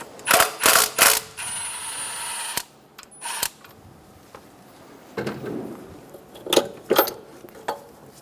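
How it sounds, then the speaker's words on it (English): A ratchet clicks in quick bursts while loosening a 10mm bolt on the bracket of a 1994-1997 Honda Accord 2.2L engine, with sharp metallic clinks and pauses between strokes, close and alone. "we'll remove the 10mm bolt going to the bracket"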